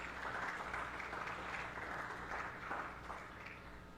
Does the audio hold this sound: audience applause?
yes